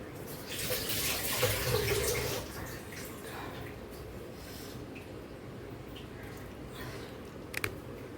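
Water is poured into a jackfruit seed curry on the stove, a brief rushing splash followed by a quieter steady hiss of cooking.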